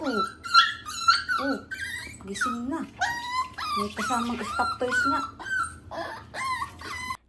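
A newly adopted puppy whimpers and cries in repeated high, wavering yelps and whines, close and fairly loud, with a person speaking softly over and between the cries.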